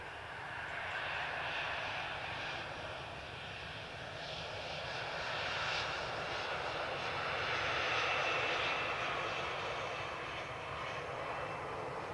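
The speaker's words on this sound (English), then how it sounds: "To just finish its landing roll here." A passenger airliner arriving from Malaga finishes its landing roll at Manchester Airport, a steady broadband engine roar that swells and fades gently, moderately near, with no voices.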